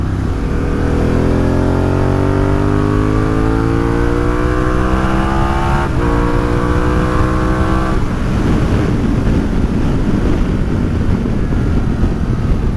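A 2022 Harley-Davidson Pan America 1250 Special motorcycle engine accelerating hard through the gears, a loud, close, rising roar with a brief dip at each shift, then steady wind-blasted engine noise at speed, no talking.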